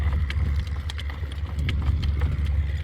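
A driving horse's hooves clip-clopping at a steady walking pace on a hard road, with a low rumbling background running underneath.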